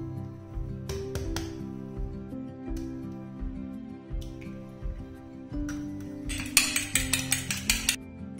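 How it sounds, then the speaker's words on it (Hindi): A fork beats an egg in a bowl for chicken shami kababs, with a quick run of light, rhythmic clinks near the end over steady background music. "यहाँ पे मैं ले लूंगी एक अंडा और इसको कांटे की हेल्प से अच्छी तरह हम फेंट लेंगे।"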